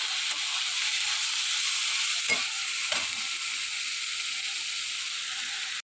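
Matki (moth beans) frying in hot oil give a loud, steady close-up sizzle with a couple of brief stirring scrapes, then stop abruptly at the end.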